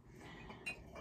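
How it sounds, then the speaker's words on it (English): Ceramic mugs, including gold-decorated ones, clink together in a single short, bright knock near the middle of a quiet moment, close and fairly soft. "I don't know how people do mug videos without all the clinking noises."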